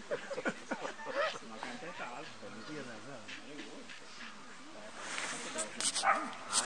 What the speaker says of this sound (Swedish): Och så är det en hund